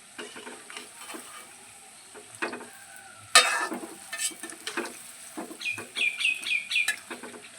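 Palm fruit fritters (taler bara) fry in oil with a soft bubbling sizzle and occasional stirring clatter. A sudden louder burst comes midway, and chickens cluck nearby in the background.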